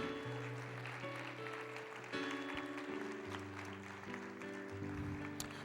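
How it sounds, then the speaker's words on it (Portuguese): A church congregation applauds at a Pentecost service, a steady wash of clapping that stays under sustained keyboard or organ chords throughout. "Aplauda o Senhor"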